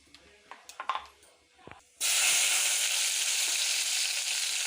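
Tempering seeds are dropped into hot oil in a pan and burst into a sudden loud sizzle that keeps hissing steadily, after a few quiet clinks and taps at the start.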